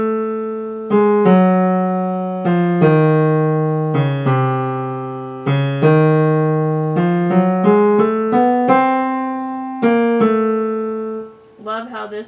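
A piano plays a single line of Khachaturian's Waltz from Adventures of Ivan, clear separate notes struck one after another with ringing decay, near and alone, ending with a brief noise.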